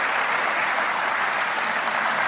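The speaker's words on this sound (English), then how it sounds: "Let's give Felipe a big round of applause" A crowd at a Defcon hacking conference applauds steadily, a dense, even wash of clapping that fills the whole moment.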